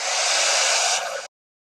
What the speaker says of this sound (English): you're going to use a heat gun to melt it